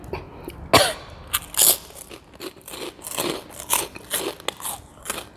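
Crispy fried pork rinds crunched and chewed up close, with loud, brittle bites followed by a steady series of crackly chews.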